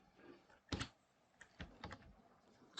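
Keys on a computer keyboard tapped while zeros are entered into a spreadsheet: a few quiet, close clicks, one firmer double keystroke followed by a short scattered burst of lighter taps, with no talking.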